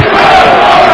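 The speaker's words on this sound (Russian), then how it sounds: "слышите, скандируют немногочисленные, но тем не менее дружные болельщики Минской команды приветствуют свой клуб" Dinamo Minsk football supporters chant in unison inside a stadium during a UEFA Cup qualifying match, a dense, loud crowd roar holding steady for about a second.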